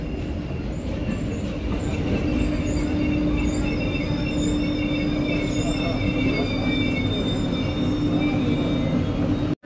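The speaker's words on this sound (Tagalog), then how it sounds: "ito yung train nila dito" A train at a station in Rabat, Morocco gives a loud, steady rumble with high wheel squeal running throughout, and faint voices sit underneath.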